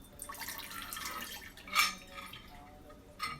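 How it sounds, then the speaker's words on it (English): Half a cup of bleach poured into a bowl, a soft liquid trickle with small clinks against the bowl and a couple of brief louder knocks, close by and without talk. "So there's a half a cup of bleach. We'll pour that into our bowl."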